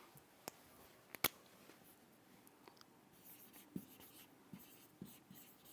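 Faint writing on a surface gives soft scratchy strokes with a few sharp taps from the pen, heard alone and close up in a quiet room.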